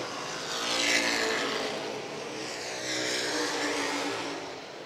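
Vintage race cars roar through turn three at Lancaster Motor Speedway, a loud sustained engine drone that swells and fades slightly as the pack passes, close and continuous without pause.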